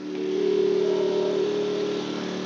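A Yamaha 2000-watt inverter generator engine drones steadily nearby, a buzzy, even hum that swells slightly and holds without pause.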